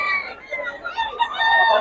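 Roosters and hens kept by a fowl seller, crowing and clucking together in a busy overlapping chorus, close and loud throughout.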